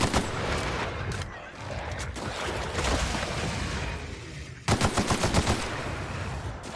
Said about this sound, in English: this fucking gun tears them to shreds